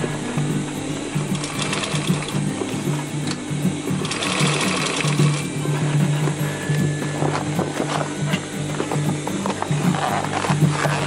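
A sewing machine runs steadily, stitching the top side of a roll-up bag, a loud continuous motor hum with a rapid needle rhythm, close up and uninterrupted for the whole stretch.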